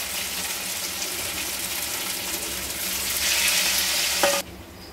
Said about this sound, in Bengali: এরকম করে আমি সবকটা ভেজে নেবো তেলে দিয়ে